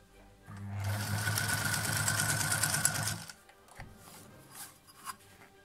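A domestic sewing machine with raised thread tension to fix bunching stitches runs in a fast, rhythmic mechanical whir for about three seconds, then stops, leaving faint clicks and handling noises nearby.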